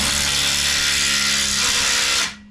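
Loud, steady whirring drone of a power tool, most likely an impact wrench, backing a bolt out in a speed shop garage, running continuously at close range for about two seconds before cutting off abruptly.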